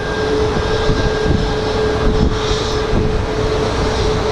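Alaska Airlines flight 739, a Boeing jet bound for Seattle, roars steadily and loudly at Sky Harbor International Airport, a sustained engine rumble with a faint high whine running throughout and no voices.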